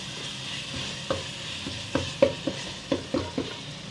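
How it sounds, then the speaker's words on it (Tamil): Ingredients for Muslim-style pulao sauté in hot oil in a pan, with a soft steady sizzle and a handful of spaced spoon scrapes and taps, fairly quiet and with no voices. "நல்லா அந்த பச்சை வாசம் போகிற வரைக்கும் அந்த எண்ணெயில் வந்து வதக்கிக்கணும்"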